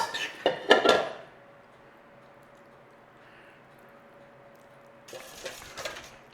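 Onion and bacon filling for a German onion tart is spooned into the pastry case, with a cluster of clinks and scrapes of a spoon on a dish at the start and again near the end, quiet in between.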